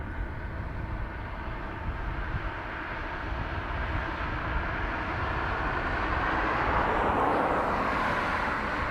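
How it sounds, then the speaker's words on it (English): Blue Islands ATR 72-500 turboprop at Dublin Airport, a continuous broad engine roar that grows slightly louder and brighter over the span, with no voices. "Blue Islands ATR 72-500 to Jersey"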